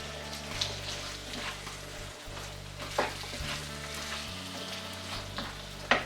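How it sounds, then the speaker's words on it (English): Chana masala simmering on a stovetop over low flame, a steady bubbling sizzle with a few soft spoon clinks and stirring sounds scattered through, close by and without talking. "Now we should let this chana masala cook on low flame for at least 15 minutes"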